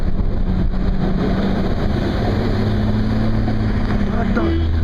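A car engine with a loud muffler drives a road the day after Hurricane Irene in 2011. A heavy, close, continuous low rumble holds steady throughout, with voices faintly underneath.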